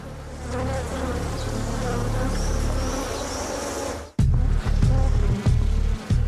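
A dense, loud swarm of Africanized bees drones continuously, then several sharp close-up buzzes sweep past in quick succession, very near and intense.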